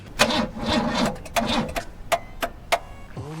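The engine of an old GAZ Pobeda in poor condition cranks in several uneven bursts. It struggles, stops and tries again, ending in a few short separate turnovers, heard close with no talk.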